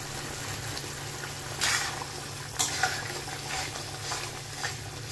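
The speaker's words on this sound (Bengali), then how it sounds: "এখানে আমার মশলাটা কষে গেছে আর এবার আমি পনিরগুলো দিয়ে দিচ্ছি।" Paneer pieces going into cooked-down spice masala in a pan, a steady low sizzle with a few louder clatters of stirring and scraping, fairly close, no voices.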